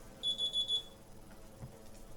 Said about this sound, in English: Oh, my alarm.